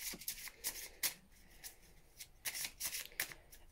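Tarot cards are shuffled and drawn by hand during a reading, with soft, close riffles and flicks coming in quick clusters, quiet overall and with no voices.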